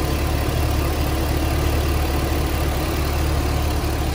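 A 2006 Pontiac GTO with a 6.0L V8 idles steadily up close, a smooth continuous low rumble with no voices over it.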